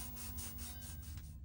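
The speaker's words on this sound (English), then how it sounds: "finally sanding the area with fine grit sandpaper, which you should only do on hot press paper" Fine grit sandpaper rubbing over hot press watercolor paper in a quick run of repeated back-and-forth strokes, a steady, close, soft scratchy hiss with a low hum under it.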